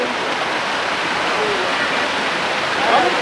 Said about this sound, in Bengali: রাস্তার উপরে একটা ঝর্ণা পড়লো, গাড়ি থেকে নেমে পড়লাম।